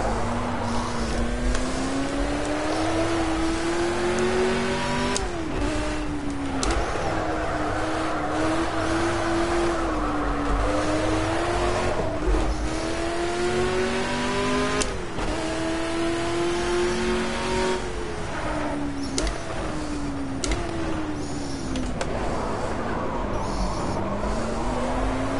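A Ford Mk IV race car in the Project CARS racing game, its engine revving up and down repeatedly through gear changes, loud and close with a steady roar and occasional tire noise.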